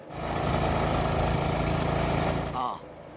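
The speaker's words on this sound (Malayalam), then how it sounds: "ഒരു സ്പീഡ് ബോട്ട് കാണുന്നുണ്ട്" A speedboat engine runs on water, a loud, close, steady droning rumble with a buzzy edge that cuts off abruptly near the end, with a voice briefly heard under it.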